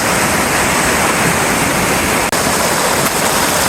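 A stream's water flows in a loud, dense, unbroken rush of close noise, constant from start to finish, with no voices.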